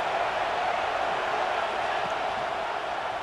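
Stadium crowd at an Auburn vs Florida college football game, a steady broad roar of many distant voices before a third-down red zone play, continuous and unbroken.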